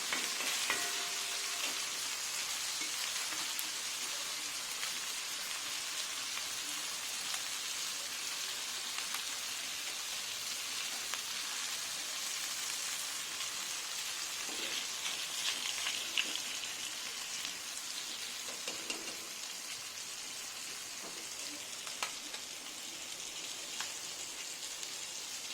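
Masala-coated lady fish fries in hot oil in a pan, Madurai style, giving a steady, fairly quiet crackling sizzle with scattered pops that runs on evenly for about 25 seconds with no one talking.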